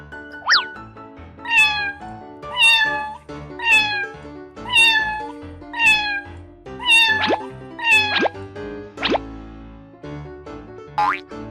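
A cartoon cat meows repeatedly in a kids' animal cartoon, about ten bright, stylized meows in a steady rhythm, loud and close, with light plopping effects between them.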